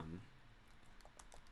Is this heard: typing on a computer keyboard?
yes